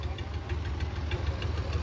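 Eicher 557 and Sonalika 750 tractors chained together in a tug-of-war contest rumble with a steady, loud low engine drone and a faint knocking pulse, with no voices.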